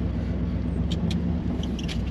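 A Ford F100 pickup truck engine hums steadily in second gear from inside the cab, a low continuous drone with road rumble and a few faint high squeaks.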